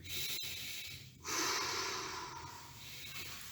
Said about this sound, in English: So go on and breathe.